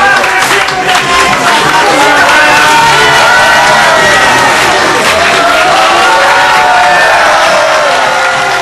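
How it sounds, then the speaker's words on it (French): A theatre audience cheers, whoops and claps after a stage show, a loud, dense crowd roar held steadily throughout with shouts rising above it. "il reste les applaudissements, les saluts"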